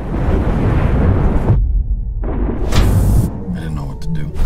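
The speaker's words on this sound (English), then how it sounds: "The explosion blasted open the hull." Sci-fi film trailer explosion blasting open a spaceship hull: a loud, dense rumbling blast that cuts to near silence, then a second whooshing surge and scattered crackling debris.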